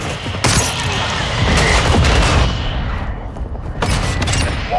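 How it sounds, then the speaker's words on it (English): Mortar strike explosions in Call of Duty Modern Warfare 2 team deathmatch, a loud barrage of repeated booms and blasts over dense battlefield gunfire lasting several seconds. "Mortar strike inbound."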